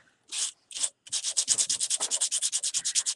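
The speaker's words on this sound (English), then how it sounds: "All right, so sanding away." Sandpaper rasps across a canvas: two slow strokes, a pause, then a quick steady run of rhythmic back-and-forth scrubbing, close and fairly loud.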